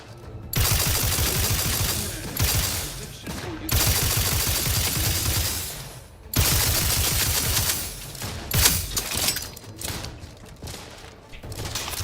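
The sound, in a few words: turret gunfire in the video game The Outer Worlds 2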